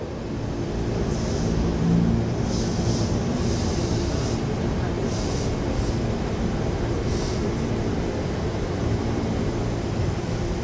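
An old Tokyu KRL commuter electric train rounds a curve in the tracks, a loud continuous rumble of wheels and cars with intermittent high wheel squeals on the bend, close by and steady throughout.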